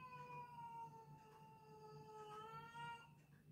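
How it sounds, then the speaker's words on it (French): A cat lets out a long, drawn-out meow indoors, a clear wavering cry with a second shorter call near the end, fairly quiet and close with no talk. "Ah bah c'était un grand miaulement."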